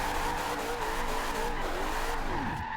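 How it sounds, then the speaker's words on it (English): A Chevrolet Corvette on race tires drifting in Forza Horizon 2, its engine droning steadily while the tires squeal and wail in long bending sweeps, loud and close. "with a little bit of practice, you can get really good drifts out of it"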